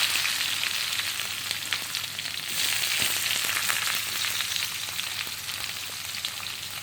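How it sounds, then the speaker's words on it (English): Onion sizzling steadily in hot oil with fennel, cumin and whole peppercorns while cooking a Malaysian-style crab curry, a continuous close frying hiss with small crackles and no talk. "Okay, now I'm adding in onion."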